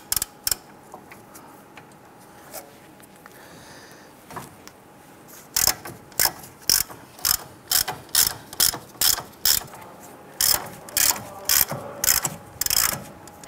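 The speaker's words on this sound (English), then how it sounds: "Using a 21 millimeter socket, I want to go ahead and loosen this nut" A ratchet fitted with a 21 mm socket works loose the upper ball joint nut on a 2002-2008 Dodge Ram 1500, giving a series of sharp, close clicking bursts in a repeated rhythm over a quiet garage background.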